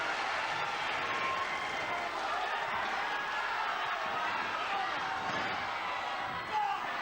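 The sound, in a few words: wrestling crowd cheering wildly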